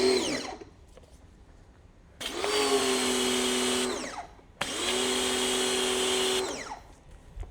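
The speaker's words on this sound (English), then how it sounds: "Let's unleash the power of the Parkside pressure washer." A Lidl Parkside pressure washer runs in two sustained bursts of steady motor whine with a harmonic drone, each a couple of seconds long, separated by a quieter pause and starting with a faint trailing tail.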